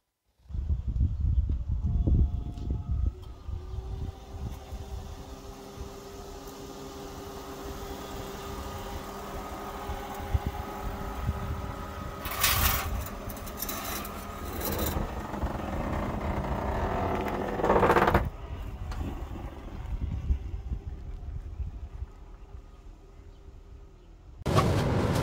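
A 2001 Honda Accord CG6 fitted with new coilovers drives along, its engine a steady, moderately loud drone with road noise that shifts slightly in pitch, ending in a brief louder surge.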